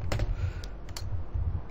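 Short run of clicky keystrokes on a wireless computer keyboard during a Civilization 6 session, several close taps in quick succession over a low hum.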